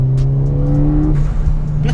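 A 2017 Ford Fiesta ST200 hot hatch accelerating hard, loud steady engine drone from inside the car, with a brief tyre chirp in second gear and a quick gear change near the middle.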